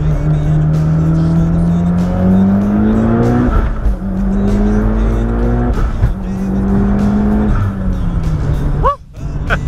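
Mitsubishi Evo X with an MHI-18K turbo running E85 pulls hard through second gear, its engine note climbing steadily in repeated rising sweeps, loud and close, before cutting off abruptly near the end.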